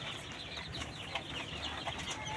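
Egyptian Fayoumi laying hens cluck softly in a small flock of around fifteen birds, with faint, scattered calls under a steady background hiss.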